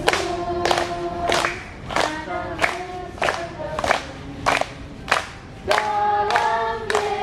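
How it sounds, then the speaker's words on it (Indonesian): A congregation at a Sunday gathering claps hands in rhythmic bursts while singing a song together, loud group claps landing on the beat between sustained sung notes. "Sekarang tepuk tangan."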